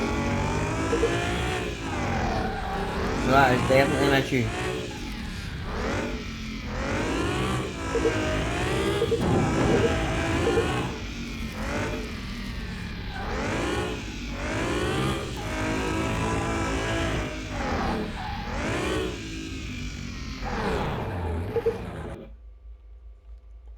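A Renault Clio V6 with a right-side suspension fault drives hard in Car Mechanic Simulator, its engine revving and dropping in repeated surges while tires squeal as the car wants to spin right; a voice speaks briefly near the end.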